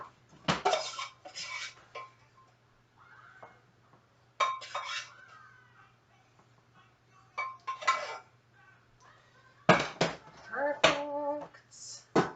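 A pasta bake is stirred in a dish with a utensil, giving scattered scraping and clinking bursts against the dish between quiet gaps, close to the microphone, with brief voice sounds.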